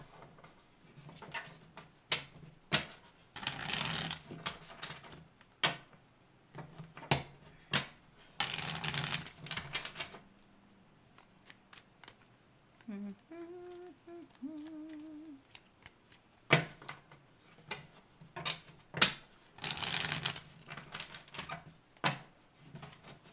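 Tarot cards riffled and shuffled close up in repeated crisp bursts, with brief pauses between rounds and a short faint tonal hum partway through; no talking.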